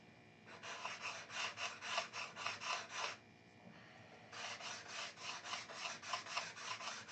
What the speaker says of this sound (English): a sanding stick like this or a fingernail file.